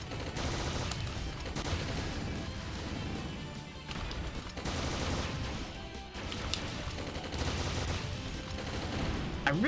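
Dense, continuous gunfire and crashing impacts in Shadow of the Ninja Reborn, with rapid bursts layered over game music, loud and busy throughout.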